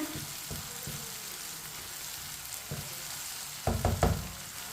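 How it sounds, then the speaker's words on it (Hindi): Tomatoes cooking in a pan over a medium flame: a soft, steady sizzle with occasional spoon knocks and stirring scrapes, a brief flurry of clatter near the end, fairly quiet and with no speech. "मीडियम आंच पर पकाएं टमाटरों को।"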